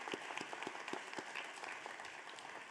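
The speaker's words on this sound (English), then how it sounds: "Please give them a round of applause." A convocation audience applauds standing committee members with a modest, fairly quiet patter of hands, a few individual claps audible as distinct sharp hits within the thin, steady wash.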